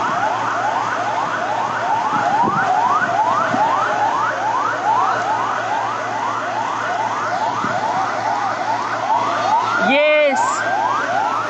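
Emergency sirens from fire engines and ambulances at a plane crash site in a residential area of Karachi wail in a steady, repeating rise-and-fall cycle, loud and continuous, with a sharp horn-like burst near the end and brief speech.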